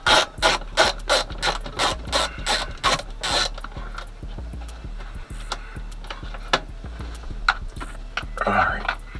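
A ratchet backs a bolt out of the glove box on a custom Cutlass dashboard, giving a quick, evenly paced series of sharp, close clicks. Slower, scattered clicks and handling noises follow.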